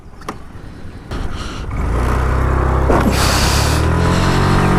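A Pulsar AS200 motorcycle engine starts low, then revs up hard into a loud, sustained roar for a wheelie, close by and alone.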